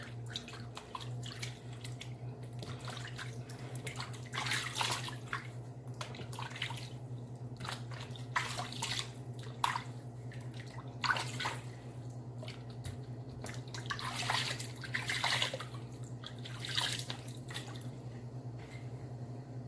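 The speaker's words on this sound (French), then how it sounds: "Se rince les pieds avec de l'eau chaude pour enlever le beurre, tout le beurre." Warm running water splashes and drips steadily while feet are rinsed clean of shea butter, a soft, irregular trickle over a low constant hum, with no talking.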